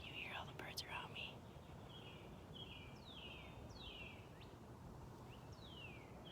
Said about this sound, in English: Can you hear all the birds around me?